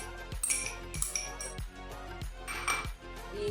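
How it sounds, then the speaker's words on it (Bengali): Chopped fish oil, gram flour and chopped onions being mixed in a bowl, with repeated clinks and scrapes of a utensil against the dish in a steady rhythm, close and fairly quiet. "এরপর এর সঙ্গে মিশিয়ে দিচ্ছি এই 1 চামচ মতন বেসন, আর এই কুচনো পেঁয়াজগুলো দিয়ে দিলাম"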